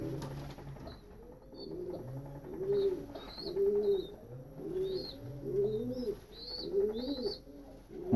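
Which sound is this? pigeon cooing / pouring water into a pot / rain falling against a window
pigeon cooing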